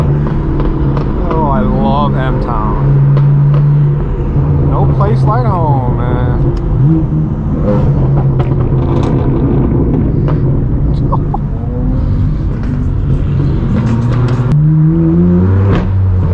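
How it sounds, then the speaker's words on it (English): BMW M2 driving past at a nighttime BMW car meet in Los Angeles, a loud engine note rising and passing amid other cars and crowd chatter, with people talking throughout. "There goes the M2."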